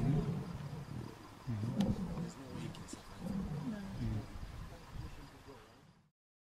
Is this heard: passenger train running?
no